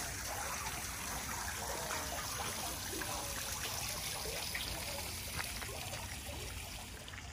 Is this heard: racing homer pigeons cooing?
no